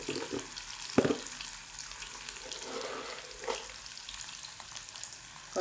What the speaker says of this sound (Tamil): இஞ்சி பூண்டு போட்டாச்சுங்க. போட்டு வதங்குது.